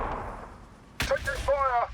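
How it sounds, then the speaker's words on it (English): Rockets launching in a Warhammer 40,000 battle game between Orks and Blood Angels, a sudden sharp burst followed by a brief whooshing, crackling rush, close and loud after a moment of quiet. "Rockets away."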